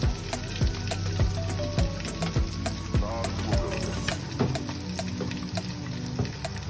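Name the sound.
okra frying in a pot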